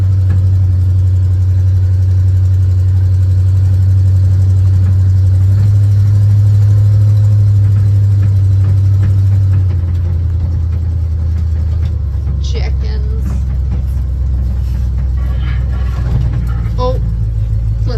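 A 1985 GMC C35 crew cab pickup engine idles steadily with a deep low rumble, then shifts tone partway through as clanks and rattles join in close by.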